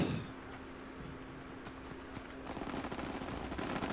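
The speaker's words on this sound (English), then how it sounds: "My LMG is mounted and loaded." Light machine gun fire from a mounted LMG in Call of Duty: WWII, a steady stream of gunfire that stays moderately loud and grows busier and denser in the second half.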